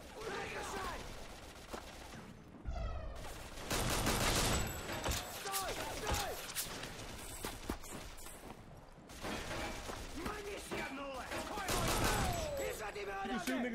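Gunfire from 50 Cent: Blood on the Sand, with grenades in play: repeated bursts and crackling shots in two long stretches, loud and busy, mixed with game voices and effects.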